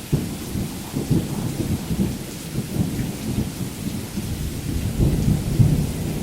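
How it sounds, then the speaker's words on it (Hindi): Heavy rain pours down steadily, a dense continuous roar with low rumbling underneath, with no voices present. "कितनी बारिश हो रही है"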